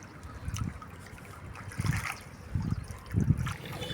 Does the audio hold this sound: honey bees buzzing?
no